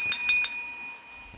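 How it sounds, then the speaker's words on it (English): A small desk bell in a classroom is tapped three times in quick succession, each bright metallic ding ringing briefly before fading out alone. "There's a whole system with the bell for quieting students down."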